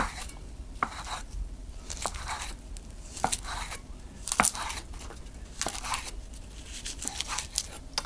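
A sharp knife cuts through an inside-out California sushi roll on a board, giving a series of soft, evenly spaced thuds and taps close up, with faint rustling between the cuts.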